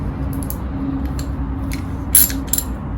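Ratchet tightening bolts on a Smart 450 engine during reassembly, heard as faint clicking strokes over a steady low workshop hum, with a sharper burst of clicks near the end.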